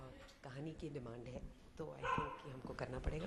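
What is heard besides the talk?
dogs barking in the background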